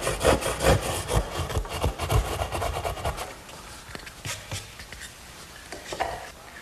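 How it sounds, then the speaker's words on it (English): A hand-held 10-point crosscut saw cuts the corners of a wooden Shaker step stool in quick, rhythmic back-and-forth strokes that slow and grow fainter toward the end. "my 10-point crosscut saw does a good job finishing up the corners"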